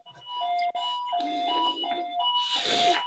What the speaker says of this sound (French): C'est un signal d'alarme qui s'est déclenché.